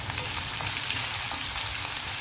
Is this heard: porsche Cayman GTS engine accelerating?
no